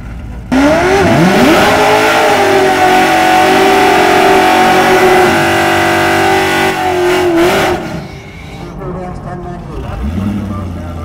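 Drag race cars launch together from lanes 1 and 2 and scream down the strip, a sudden loud engine blast climbing in pitch for several seconds before fading off, with an announcer talking afterward.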